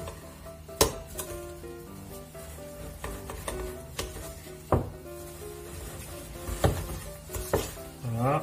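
A soft butter, brown sugar and cinnamon filling is stirred in a bowl, a steady wet scraping with several sharp knocks of the utensil against the bowl's rim.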